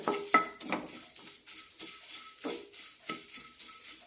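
A spoon stirs asafoetida powder into dry drumstick-leaf idli powder in a pan, with about seven rhythmic scraping strokes and light clinks against the metal, near and fairly quiet.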